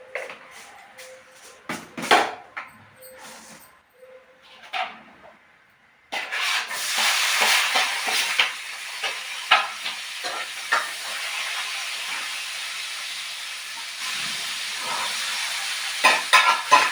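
Shahjeera spices sizzling in hot oil, a steady frying hiss that jumps up suddenly partway through and then holds at a constant level, preceded by quieter kitchen clinks and rubbing.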